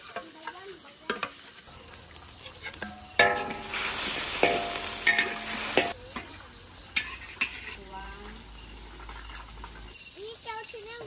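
Leftover lunchtime chicken being reheated in a frying pan: a quiet stir at first, then a loud burst of sizzling and scraping for a few seconds that fades back down, with people talking intermittently around it.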